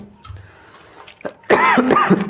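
A short burst of coughing up close, several rough hacks in quick succession after a quieter stretch with faint background noise.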